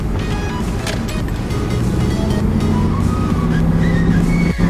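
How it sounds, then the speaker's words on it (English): A car with a freshly fitted Midas exhaust revs loudly up close, its deep raspy engine note swelling and holding steady with a brief dip near the end, no talking over it. "the car sounds amazing"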